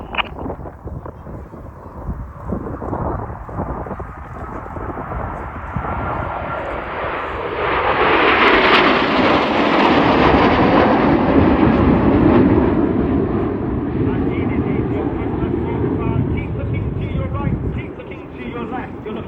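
Red Arrows jets pass overhead in tight formation at an air show at Old Buckenham, their engine roar swelling from distant to a loud, sustained rush before slowly fading, with a commentator speaking over the public address.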